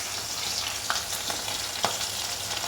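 Fish sizzles steadily in hot oil in a pot, a dense continuous crackle with a few sharper pops rising above the hiss.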